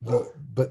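A pet dog at home barks twice close by, a sharp bark followed by a shorter one after a brief pause, with a voice briefly heard between them.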